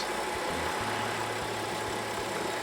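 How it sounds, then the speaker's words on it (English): A modified BMW M3 with a 3-liter turbo engine, aftermarket turbo, intake kit and Remus exhaust, making about 480 to 500 horsepower, idles with a steady, close, low rumble throughout. "It's a 3-liter turbo engine."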